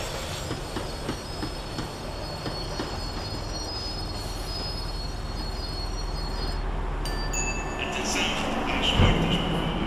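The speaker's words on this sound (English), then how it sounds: "The tram was slowing down." Tram slowing down in the Max Payne 3 video game, a continuous loud rumble of rail wheels with high metallic squeals building as it brakes, and faint talk underneath.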